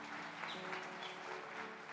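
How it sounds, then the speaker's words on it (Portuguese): A church congregation applauds, a steady wash of many hands clapping at a distance, fairly faint and sustained throughout with a low musical hum underneath. "Você pode dar um aplauso para Jesus?"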